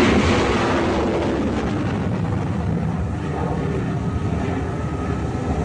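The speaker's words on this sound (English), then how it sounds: "There goes an F-18 Hornet off the deck of the Nimitz." An F-18 Hornet jet launches off the deck of the aircraft carrier Nimitz at sea, a loud continuous roar of jet engine and deck noise sustained throughout with no talking.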